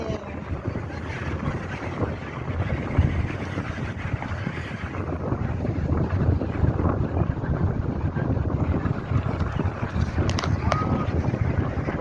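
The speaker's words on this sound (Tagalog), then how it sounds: "Malakas ang hangin." Strong wind roars steadily and broadband against the microphone at a rocky seaside at Shek O, a constant rushing buffet with no let-up for the whole stretch.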